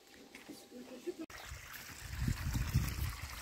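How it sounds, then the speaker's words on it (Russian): Water pump starting up to drain water from a pit at a building site, a steady low churning flow with trickling and splashing that grows louder after a brief pause, with people talking nearby. "Все, пробили, начал качать. Сейчас воду уберут."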